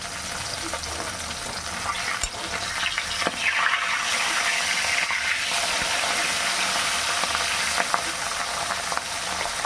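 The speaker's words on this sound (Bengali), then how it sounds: "বাকি দুটো মাছ এইভাবে আমি ভেজে নেব" Pabda fish fried in oil in a covered pan, giving a steady, dense sizzle throughout with a few small pops and crackles; no one speaks.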